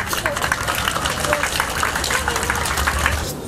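Audience applause at a prize draw in Kaspiysk, dense steady clapping from a crowd, continuous and moderately loud for several seconds.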